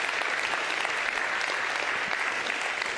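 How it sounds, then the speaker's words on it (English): Audience applause for the speakers at the close of a panel on building frontier AI products, dense and steady clapping from a large crowd throughout, with no voices over it. "Please give another round of applause for all of our great speakers, Brett, Molly, Fergal, Silas, and Nico."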